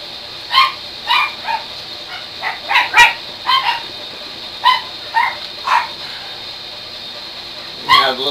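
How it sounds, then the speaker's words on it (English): A small dog barks in the background, with sharp yips spaced out in a loose rhythm and a whimpering whine near the end, moderately loud against a quiet room during granite countertop work. "The little dog's barking in the background"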